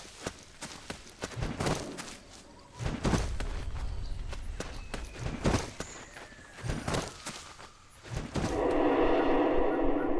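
Footsteps in the video game Metal Gear Solid 4, a run of soft thumping steps with a few heavier thuds, moderately loud, ending in a steady noisy ambience.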